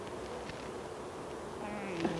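A constant low buzzing of many honeybees around an open hive fills the air, close by, with faint rustling and a brief higher whine near the end.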